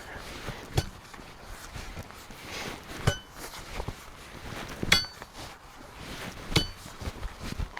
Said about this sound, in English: let your hands go loose right at the last second before it hits, and that way the crowbar does all the work